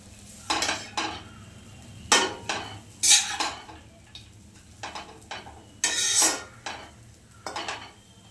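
Chowmein mixed in a pan with soy sauce and Maggi masala, a rhythmic series of metal spatula scrapes and clanks repeating about every second over a faint sizzle.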